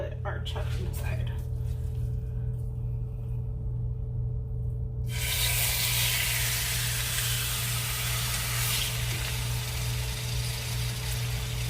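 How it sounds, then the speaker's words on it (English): Beef chuck sears in a hot pot for beef stew, giving a broad, steady sizzle that swells loud after a few seconds and holds, over a low continuous hum. "Now what you want to do is just get a nice sear on both sides"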